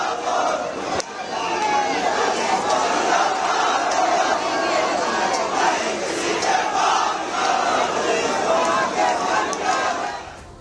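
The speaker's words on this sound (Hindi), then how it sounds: "तो प्रदर्शनकारी हिंदू अपनी आवाज बुलंद कर रहे हैं।" A large crowd of Hindu protesters in India shouts continuously, voices merging into a loud, sustained roar with chanting surges and no pause.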